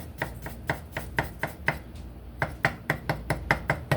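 A knife thin-slices peeled garlic cloves in a quick, steady run of crisp chops against a cutting board, with a brief pause partway through before the rhythm resumes.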